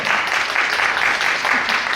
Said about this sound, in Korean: 박수 한번 칠까요, 우리끼리?